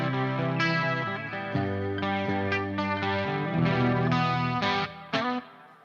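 Electric guitar run through distortion and chorus effects plays a ballad, sustained chords and arpeggiated notes ringing continuously with a brief dip near the end, no voices.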